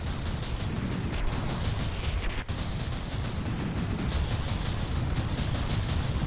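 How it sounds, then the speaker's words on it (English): Mortars firing in the naval combat game From the Depths, a continuous loud barrage of booming blasts and rumbling explosions packed tightly together, with one brief dip in the din partway through. "I wonder how it is with these mortars."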